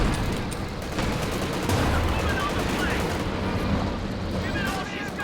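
Machine gun fire from MG bunkers in the video game Company of Heroes 2: dense, continuous automatic gunfire rattles on with distant battle noise and dull booms underneath, fairly loud and steady throughout.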